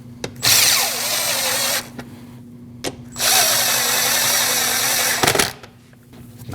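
A power tool snugs 10mm and 8mm bolts near the starter of a 2014-2023 Jeep Cherokee, running in two long, loud whirring bursts with short clicks between them.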